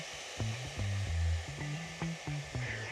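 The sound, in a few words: hair dryer heating peel-and-stick wallpaper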